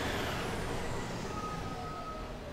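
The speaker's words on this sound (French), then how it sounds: "camion poubelle" A garbage truck with air brakes, heard as a loud, continuous broadband hiss and engine rumble close by, with a faint tonal whine rising through the latter half.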